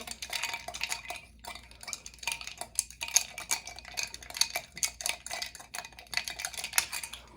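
A spoon stirs a mixture in a bowl that has just had a wild cherry ingredient added, giving continuous close scraping and clinking strokes in a steady rhythm with no talk.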